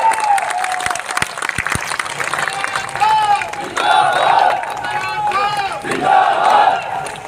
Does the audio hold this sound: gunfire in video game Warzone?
no